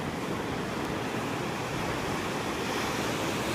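Surf rolling onto the sand at Haskell's Beach in Santa Barbara near a pier, a steady broadband wash of breaking waves with a light wind rumble, constant and fairly close, no voices.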